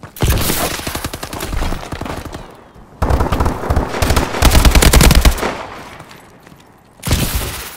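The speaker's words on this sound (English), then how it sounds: "this AK runs out of ammo too fast" Rapid automatic AK rifle fire in the futuristic shooter Call of Duty: Advanced Warfare, loud close bursts with a short pause near three seconds and a final burst after seven.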